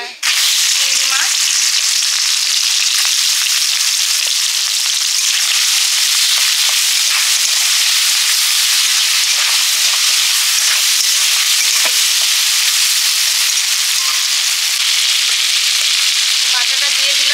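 Onion, green and dry chilies, cumin and mustard seeds fry in mustard oil, a loud continuous close sizzle with crackles and occasional stirring scrapes throughout.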